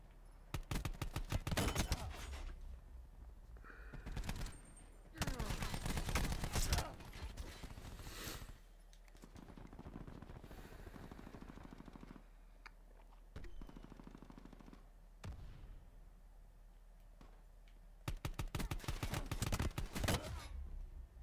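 Automatic gunfire in the multiplayer shooter Call of Duty Black Ops 4: several loud, close bursts at irregular gaps, with quieter single shots and distant firing between them and no voices.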